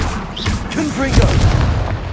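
A Confringo blast spell in the PS5 game Hogwarts Legacy lands as a deep booming explosion with low rumble, layered with other game effects and brief vocal sounds.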